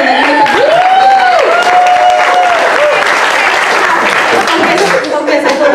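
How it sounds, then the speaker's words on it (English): Loud, sustained applause and cheering from the audience at a sold-out stand-up comedy showcase at The Second City in Chicago, a dense roar of clapping with a voice talking over it. "Everybody give a round of applause for the sets that you've seen"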